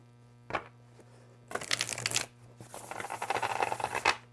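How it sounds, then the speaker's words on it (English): Two bursts of crisp card riffling from a thick, oversized tarot deck being shuffled, each a dense flurry of papery flicks, with a soft tap before them. "This actually shuffles quite nicely for such a large deck."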